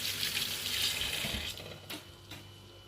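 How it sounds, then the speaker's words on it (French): Red lentils are washed under a running tap, a steady rush of water with a slight splashing texture that eases off partway through, leaving a few faint knocks and trickles. "Vous lavez les lentilles et vous les égouttez."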